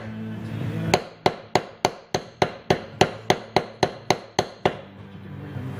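A metal leather beveling tool is struck with a mallet on leather, about fourteen sharp, evenly spaced knocks in quick succession, close and clear, each with a short ringing decay.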